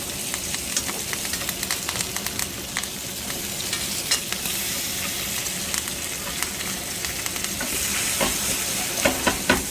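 Ribeye steaks basted with butter, thyme and garlic in a hot pan give off a loud, steady sizzle, with spoon scrapes and spattering pops scattered throughout.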